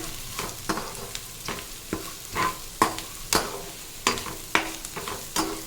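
Mashed plantain stirred into sautéed onions in a hot pan, a steady low sizzle with repeated scraping spoon strokes at an even, unhurried rhythm, close and clear without talk.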